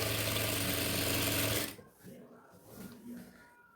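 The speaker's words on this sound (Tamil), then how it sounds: "அப்படியே 1/2 இன்ச் அளவுக்கு பாடி சுற்றளவு முழுவதுமே ஸ்டிச் பண்ணிக்கிறேன்" A sewing machine runs steadily while stitching around the body of a yoke nighty with a half-inch seam, a dense loud whir for about a second and a half before stopping abruptly, leaving faint handling sounds.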